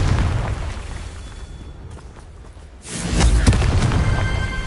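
Confringo fire spell from Hogwarts Legacy blasting in a broad roar, easing off and then swelling into a loud rumbling explosion near the end.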